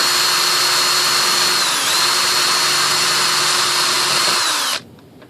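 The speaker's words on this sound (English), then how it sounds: "Very little pressure on the drill right now. Letting the bit do the work." An electric drill boring a cooling hole in a model glider whirs loudly and continuously for several seconds at close range, its pitch dipping slightly midway, then cuts off abruptly.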